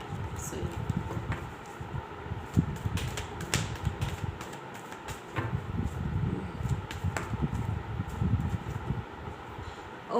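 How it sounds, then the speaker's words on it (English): Tarot cards being shuffled during a reading: irregular crisp riffling and tapping bursts, fairly close but quiet, with brief pauses between. "I am shuffling the cards."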